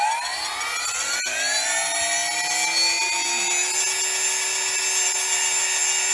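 A small RC electric motor spins up on a ToolkitRC M8S charger/discharger as the throttle rises toward maximum. Its whine climbs steadily in pitch and settles into a loud, continuous high-pitched hum with no talk.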